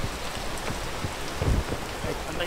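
Rain falling in a video game, a steady patter of drops running continuously at moderate level with a few brief louder bursts, no talking over it.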